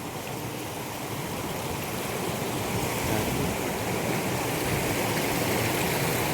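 Mahogany Falls in Dingalan, Aurora pours in a loud, unbroken broadband roar of rushing water, close and steady throughout with no voices.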